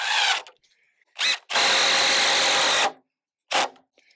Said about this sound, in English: right now I'm just putting some screws in them to hold them in place